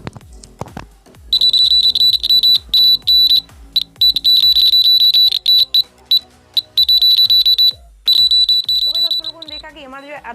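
A homemade earthquake tester's buzzer sounds in loud, piercing high-pitched bursts as a table is shaken, cutting on and off irregularly for several seconds alongside rapid clicks and rattles and a brief voice near the end.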